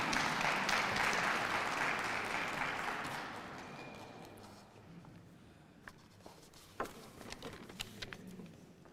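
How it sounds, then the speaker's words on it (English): Conference audience applauding as a speaker walks up on stage, a full round of clapping that gradually fades to a few scattered claps and light footsteps. "With a round of applause, let's welcome him as he comes up on stage."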